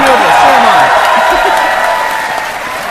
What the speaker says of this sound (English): Everyone cheer him on!